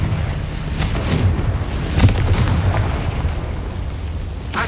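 A Confringo explosive spell blast in Hogwarts Legacy: a single booming burst rises midway through a continuous rumbling, noisy game background.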